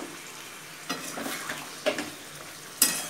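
Country chicken curry with potatoes being sautéed in a pot, a low bubbling sizzle broken by three distinct stirring scrapes and clinks of a spoon against the pot.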